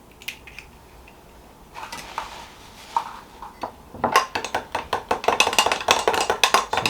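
Eggs are mixed into flour in a bowl for brioche hot cross bun dough: a few scattered clinks at first, then a fast, steady run of rhythmic tapping and scraping that grows louder toward the end.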